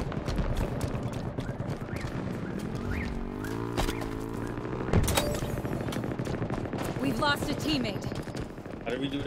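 Rapid bursts of gunfire from a mid-range weapon in Halo Infinite multiplayer, with repeated shots in quick succession over busy game sounds and music, with a voice talking over it.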